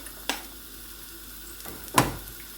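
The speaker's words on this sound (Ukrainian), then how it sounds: "Підсмажуємо цибулю до карамельного кольору." Onion frying in a pan toward a caramelised colour, with a steady sizzle broken by two sharp stirring scrapes, heard close with no talk.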